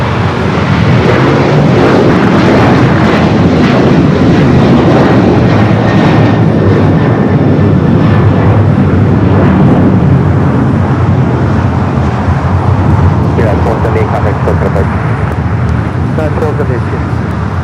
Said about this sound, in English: 737-900 ER with United.